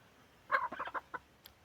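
A chicken clucks in a short burst of several quick, fairly quiet calls among growing chickens and a rooster in a shaded farmyard, followed by one last brief cluck against a quiet background.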